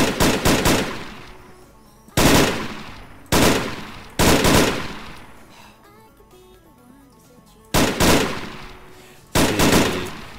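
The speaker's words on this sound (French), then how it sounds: "C'est une espèce de MK18 en version fusil." Single heavy shots from a 7.62 MK18 rifle in the video game Arma III, about six loud reports at irregular intervals, each with a long rolling echo fading away, with no talking.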